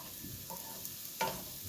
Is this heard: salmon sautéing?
yes